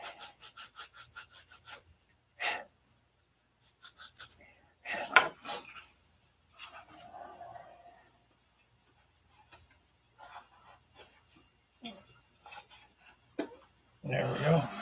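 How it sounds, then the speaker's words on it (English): Wood sanded by hand: a quick run of rhythmic rasping strokes at the start, then scattered short scrubbing passes and knocks, with a person talking in between. "Won't cut, we'll sand."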